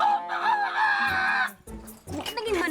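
A chicken's drawn-out crow sounds close and loud for about a second and a half, then a few choppy clucks follow after a short pause.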